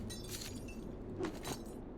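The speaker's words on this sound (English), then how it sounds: "I dropped those bottles and they just break. Oh no, they don't. They just make noise." Bottles dropped in S.T.A.L.K.E.R. hit the ground with a couple of brief glassy clinks, fairly close and moderately loud over a low game ambience.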